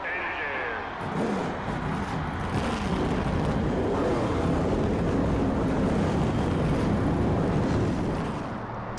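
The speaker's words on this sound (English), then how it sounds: "Gentlemen, start your engines." NASCAR race car engines in the NASCAR Thunder 2004 video game start up and hold a loud, steady roar, with a voice heard over the rumble.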